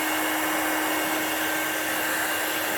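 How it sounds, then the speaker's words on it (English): An industrial air dryer blows a steady, loud rushing stream of hot air over heat shrink on a custom motorcycle brake line in a workshop, continuous and close throughout. "go over with the industrial air dryer."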